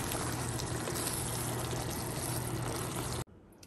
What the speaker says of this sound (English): So now I'm adding a half cup of water and let it cook.